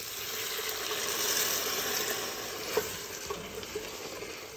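Mushrooms and vegetables sauté in a pan, a faint, steady hiss and crackle with a few soft stirring clicks and no voices.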